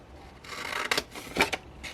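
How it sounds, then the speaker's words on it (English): Scissors snipping through Brushed With Beauty patterned paper while making a slim gift bag, a close soft rasping cut followed by two or three quick crisp snips. "And cut straight up"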